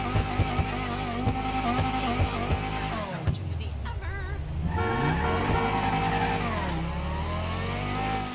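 A sports car engine in Grand Theft Auto V revs and shifts through gears, pitch climbing and dropping sharply, loud and close with a whining, synthetic edge.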